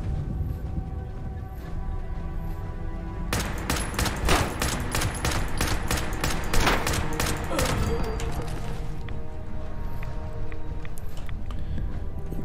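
Gunfire in the video game Fallout 76: after a quiet stretch, rapid automatic bursts crackle for several seconds, dense and loud, then give way to a low ambient hum.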